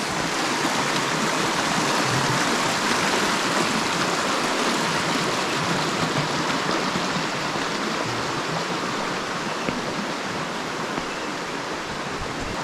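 A river stream flows steadily beside a waterfall trail near Faxinal in Paraná, a dense, continuous rushing hiss close by, without any voices.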